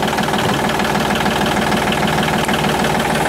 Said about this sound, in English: first things first today, I gotta juice up the tractor